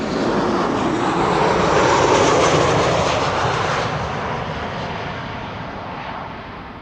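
An airliner arriving at Amsterdam Schiphol Airport roars steadily and loudly overhead, the broad engine rush swelling and then slowly easing away.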